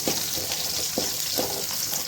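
Onions, garlic and curry leaves sauté in a hot pan for a Tamil-style black-eyed pea curry, giving a steady close sizzle with soft periodic stirring scrapes and no talk.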